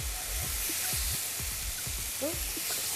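A burger sizzles and crackles steadily in a hot pan, with a few soft scraping sounds underneath.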